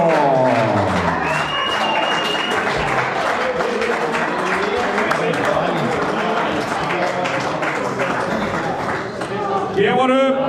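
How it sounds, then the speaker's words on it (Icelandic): Applause and crowd noise at a darts championship final, dense clapping mixed with cheering and a public-address voice talking over it, steady throughout. "Gefum honum ekstra gott klapp og Valla líka."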